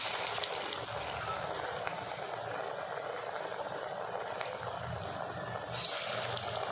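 Pressed paruppu vada dough frying in hot oil, a steady dense sizzle and bubbling that holds evenly throughout, close by and with no talking.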